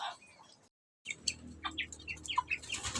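Chickens and ducks squabbling over food at feeding time. After a brief silence, a quick run of chirps and squawks sounds close by.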